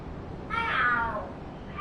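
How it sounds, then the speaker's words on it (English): In Lost Judgment, a single drawn-out cat yowl rises and falls over a quiet background, a short screech like a cat in a fight. "Are there cats fighting?"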